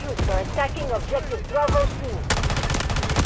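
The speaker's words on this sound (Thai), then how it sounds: "ยิงดักตัดไป" Gunfire from the mobile shooter Delta Force Mobile rattles in bursts, with a denser volley near the end, while someone talks over the shooting.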